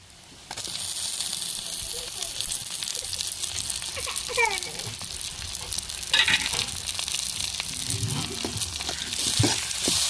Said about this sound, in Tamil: நல்லா வதங்கி வரட்டுங்க வெங்காயம்